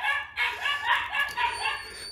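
Several dogs bark and yip in quick overlapping bursts, fairly close and loud, with a few higher whimpering notes between barks.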